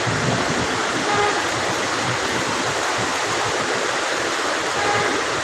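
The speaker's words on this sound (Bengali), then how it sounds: "বৃষ্টিটা হচ্ছে প্রায় বিশ মিনিটের মতো হয়ে গেছে এখনো বৃষ্টি হচ্ছে" Heavy rain pours steadily, a dense, unbroken roar of water heard from a tenth-floor balcony of a building, constant and loud throughout with no pauses.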